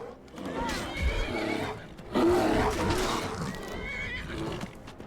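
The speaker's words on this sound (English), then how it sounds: "Hey, you leave my horse alone." A horse in a video game whinnies loudly and snorts close by, with hooves clip-clopping and busy game sounds around it.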